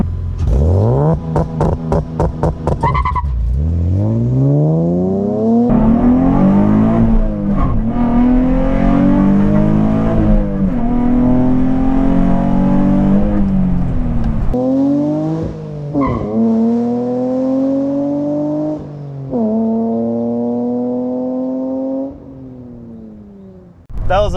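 A Nissan Z using launch control, the engine loud and close as it revs hard, then pulls through repeated rising acceleration sweeps with brief drops between gears.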